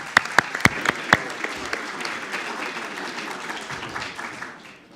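Several sharp, close hand claps lead into a full round of audience applause after a presentation at a special event, which carries on evenly and fades toward the end.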